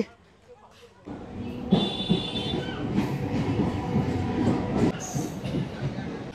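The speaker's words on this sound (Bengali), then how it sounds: "ট্রেন ঢুকে গেছে, তুই তাড়াতাড়ি বাড়ি যা" A train pulls into Sealdah station with a loud, steady rumble of rolling wagons and a high metallic wheel squeal, while voices carry on nearby.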